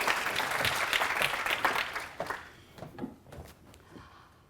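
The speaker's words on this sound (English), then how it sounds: "So round of applause for Lisa." Audience applause for a conference speaker at a career conference, a strong burst of clapping that thins out after about two seconds into a few scattered claps.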